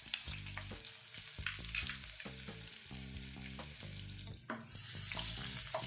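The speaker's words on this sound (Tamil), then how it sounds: "கருவேப்பிலை பொரியிற சத்தம் அடங்கினதும் கட் பண்ணி வச்சுருக்க வெங்காயத்தை சேர்த்துக்கலாம்." Curry leaves fry in hot oil for a Tamil-style bisibele bath, giving a steady, soft crackling sizzle throughout with faint background tones underneath.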